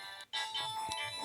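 A Samsung SGH-X450 mobile phone plays a bright electronic ringtone, loud and close, with a steady tonal melody broken by a brief dip.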